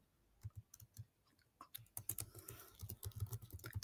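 Someone types an SQL query on a computer keyboard, close-up key clicks in uneven bursts, sparse at first then quicker and denser, in a quiet room.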